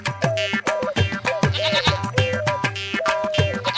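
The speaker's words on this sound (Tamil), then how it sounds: "ஐயோ ஏன் ஆட்டுக்குட்டி." Lamb bleating repeatedly in quick, wavering cries, several bleats overlapping close and loud, with no talk.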